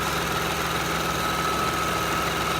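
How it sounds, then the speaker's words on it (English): A Lexus ES 300 engine idles steadily and close by after a valve cover gasket repair, a constant even hum with no voices. "We're going to let it idle for a while"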